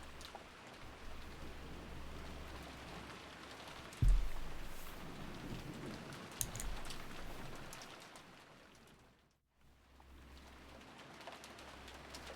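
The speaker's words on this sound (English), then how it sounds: "listening to the sound of the rain" Rain in the visual novel Umineko, a steady soft patter with dripping and faint bird coos, dropping out briefly before returning, with no voices.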